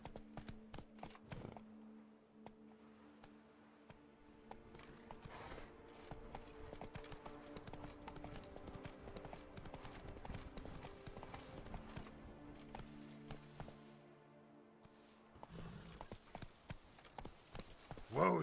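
Roach, the horse in the video game Witcher 3, gallops with a steady rapid clip-clop of hooves that runs nearly throughout, with a brief whinny and game music and effects layered underneath.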